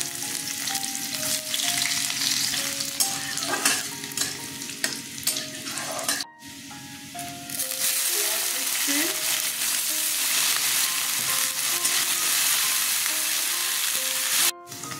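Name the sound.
tempering garlic and cumin in hot white oil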